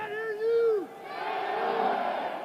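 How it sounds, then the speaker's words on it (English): St. Louis student section cheering in Kiel Auditorium at a college basketball game against Kentucky, a sustained roar of many voices with a rising shout, somewhat distant and steady throughout. "Tremendous cheer going up from the St. Louis student section here on this near side of Kiel Auditorium."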